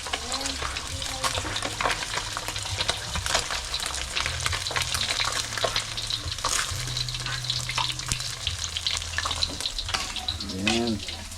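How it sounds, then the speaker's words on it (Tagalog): Small fish sizzle and crackle steadily in a hot frying pan, a close, continuous spattering hiss with occasional stirring, and a voice briefly heard near the end. "Maliliit, prito natin."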